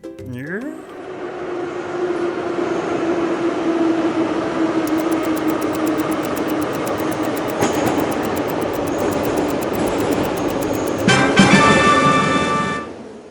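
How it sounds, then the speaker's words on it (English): Subway train passing close by, a loud rumbling roar that builds and stays steady, with a rapid clicking rattle in the middle and a brief burst of squealing, clattering wheel noise near the end. "It's a subway train."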